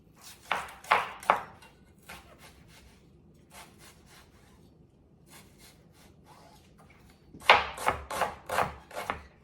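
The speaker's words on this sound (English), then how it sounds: "We'll start with either a small yellow onion or half of a large one." A knife chops a yellow onion on a cutting board in quick bursts of crisp, close strokes, with a pause of scattered single cuts between two rapid runs.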